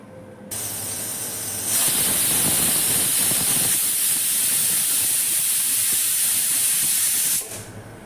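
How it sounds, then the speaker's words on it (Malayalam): A pressure cooker cooking beef curry releases its steam in one loud, continuous hiss that swells after a softer start, holds for several seconds, then cuts off abruptly. "ഒരു ഫുൾ തീയിൽ ഒരു വിസിലും ചെറു തീയിൽ രണ്ട് വിസിലും"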